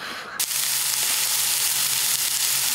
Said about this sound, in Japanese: 鶏の皮目だけ焼くの